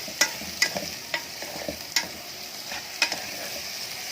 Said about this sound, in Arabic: بعد ما نزلنا بالفاصوليا هنقعد نقلب كويس قوي